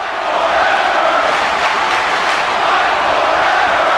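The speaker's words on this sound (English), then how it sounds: "It's a rowdy crowd we got here tonight." A rowdy crowd at a live wrestling show roars in a dense, steady wash of noise that fills the arena without a break.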